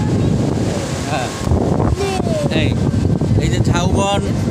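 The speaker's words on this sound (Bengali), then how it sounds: "এই বাতাস আছে, প্রচুর বাতাস, ঢেউ ভালো আছে।" Strong sea wind buffets the microphone at Kuakata beach, roaring over crashing surf, while voices and short tonal calls sound in the background.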